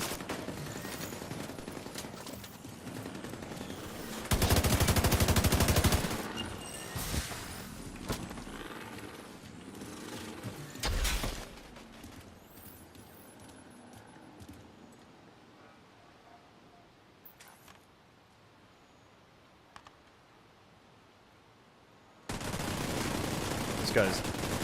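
Scorpio shotgun blasts in The Division, two broadband bursts of gunfire around 4 and 11 seconds and a long loud stretch at the end, over a low game ambience with quiet talk.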